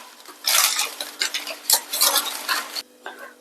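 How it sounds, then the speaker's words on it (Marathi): Peanuts roast in oil in a pan, with loud close stirring and scraping of a utensil over a faint sizzle, continuous for a few seconds before stopping. "आता शेंगदाणे भाजायला टाकली"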